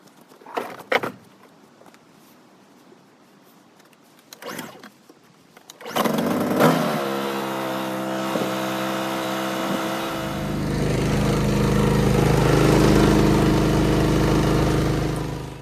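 A Champion 4650 inverter generator is pulled and started after an oil change, with a few sharp knocks and handling sounds before the engine catches and settles into a loud, steady running hum nearby.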